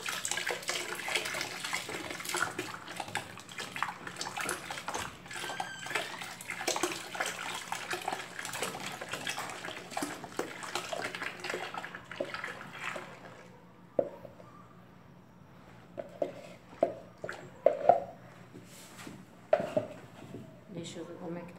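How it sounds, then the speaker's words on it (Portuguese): Water is poured in to top up a one-litre batch of homemade bleach made with caustic soda, a steady splashing pour for about thirteen seconds, then quieter drips and clinks as it finishes. "Eu vou colocar um restante da água aqui."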